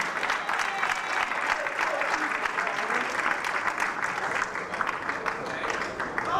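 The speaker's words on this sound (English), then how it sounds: "give Al another round of applause" Steady applause from a live audience at a stage show, continuous and fairly dense throughout, with a hint of crowd noise and voices mixed in.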